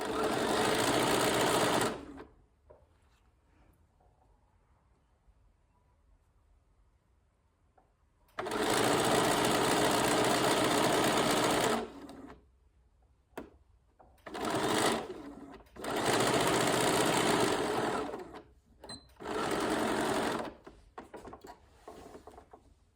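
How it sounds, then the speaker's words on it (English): A sewing machine stitches a zipper pouch in several loud, steady bursts of rapid whirring, separated by quiet pauses and faint handling noises, with no one speaking. "Down to the corner edges, scoot across to the bottom of the main, back stitch again."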